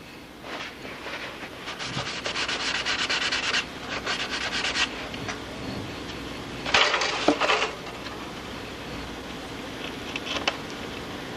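A paper towel rubbing along a glue bead on a cap strip of a Strega 9 model aircraft, giving close, continuous scratchy wiping strokes in bursts with short pauses between them.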